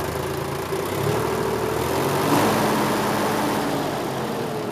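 A Sonalika 42 DI diesel tractor engine with a diesel pump problem idles with a steady low rumble and chug, close by and fairly loud, holding an even pace with no voices.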